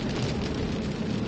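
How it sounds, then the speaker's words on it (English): Strong wind roars during a severe storm in Nebraska, a dense rushing buffet battering the microphone loudly and continuously. "It is so windy, guys."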